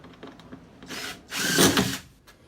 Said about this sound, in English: I've got a 1/2-inch Forstner bit in here set at the correct depth